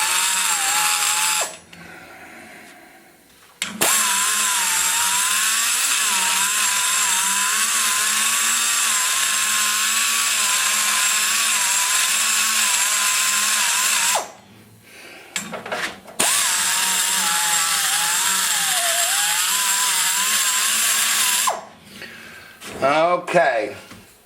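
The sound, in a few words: power tool grinding trench in VW 1.9 TDI cylinder head port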